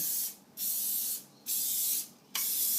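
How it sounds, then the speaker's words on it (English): Three bursts of cooking oil spray onto a pie maker, each a loud steady hiss lasting about half a second to a second, separated by brief pauses, close and alone. "We're going to spray the bottom of the pie oven and the top of the pie oven."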